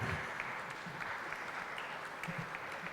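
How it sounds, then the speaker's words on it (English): Audience applause for the panelists at the close of a panel on platforms for African music, sustained steady clapping heard from a little distance, fairly soft. "A round of applause for them."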